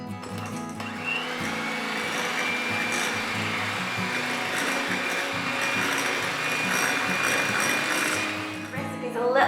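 A mixer whirs steadily and loudly through four eggs and a cup of sugar for a vanilla sponge cake, the motor hum holding constant before easing off at the end.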